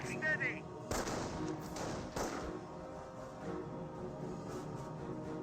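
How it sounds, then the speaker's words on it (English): Sniper rifles firing in Company of Heroes, a World War II strategy game: sharp, loud shots crack at short intervals over a busy battlefield rumble. "Barrel Sniper firing away"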